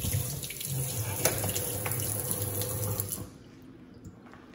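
Water runs from the changeable nozzle faucet of a deep apartment sink, a steady splashing rush that cuts off after about three seconds, leaving quiet room tone.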